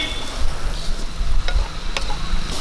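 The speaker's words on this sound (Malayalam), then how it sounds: "നല്ലപോലെ ഇളക്കി കൊടുക്കാം." Boiled potatoes tossed with turmeric powder in a frying pan for Kerala potato mezhukkupuratti, a short burst of near sizzling with scraping stirs and a couple of sharp clicks of the spoon against the pan.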